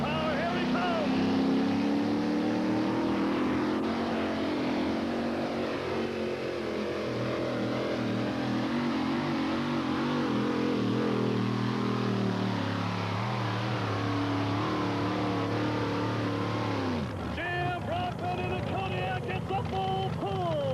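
A two-wheel-drive Kodiak truck roars through a full 300-foot pull at a 1989 NTPA truck pull, its engine loud and labouring with pitch swings before it suddenly cuts off near the end, while an announcer talks over it.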